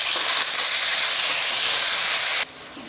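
Onions fry in a pan with a little salt for Tamil pinju poosanikai kulambu, a loud, steady sizzling hiss that cuts off suddenly near the end.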